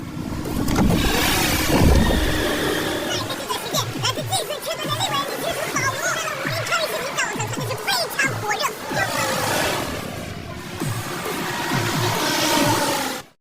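Racing car engines rev as a race gets underway in a film, a dense, loud, continuous roar that swells and fades across the whole stretch, blended with other busy soundtrack noise.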